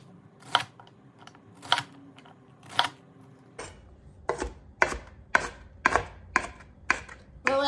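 Knife chopping onion on a cutting board for a Greek pasta salad, sounding as sharp, close thuds, first spaced slowly and then coming faster and more evenly.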